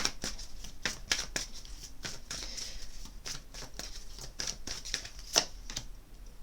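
Heart chakra oracle cards being shuffled by hand, a run of crisp riffling flicks and slaps in an irregular rhythm, close and fairly loud with no talking.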